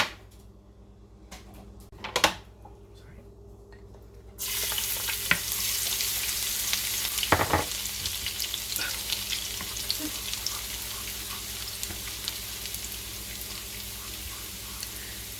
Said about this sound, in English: And then I will add the garlic in and saute that.